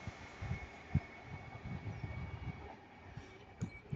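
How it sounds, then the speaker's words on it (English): A Northern Class 331 electric multiple unit passes at Ardwick on its run to Crewe from Manchester Piccadilly, heard as a quiet, distant rumble with soft rhythmic wheel knocks over about four seconds. "Hey, we have a Northern Class 331."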